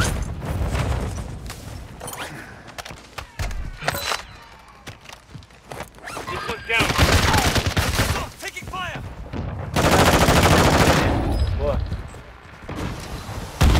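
Gunfire in an online multiplayer shooter game: rapid bursts, single cracks and distant shots mixed with footsteps and booms come in uneven waves, with voices talking over much of it.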